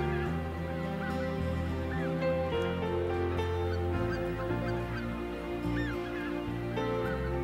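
Greater white-fronted geese at Lake Miyajima in Hokkaido in late April, a flock calling continuously with overlapping honks and cackles, some close and others farther off, under a low, steady background rumble.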